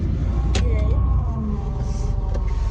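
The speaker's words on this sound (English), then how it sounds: "Why does my car sound like this?" Car engine rumbling steadily while driving, with a low drone and a brief higher whine mixed in, as people talk inside the cabin.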